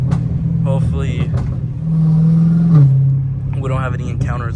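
Dodge Hellcat Redeye with a new supercharger, its engine loud and close from inside the car, droning and holding a rev before dropping back, with people talking over it.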